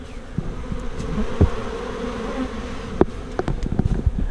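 Honeybees swarm a feed bucket holding pollen substitute, a dense, steady, close buzzing drone with occasional louder individual bees passing near.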